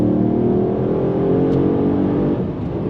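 A Mercedes-Benz GLS 63 AMG SUV accelerates hard, its engine a loud, steady, close roar building throughout with no talking.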